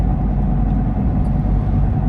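Steady, smooth hum of a Smart Fortwo's 1-liter turbocharged three-cylinder engine heard from inside the car, a continuous low rumble with no talking.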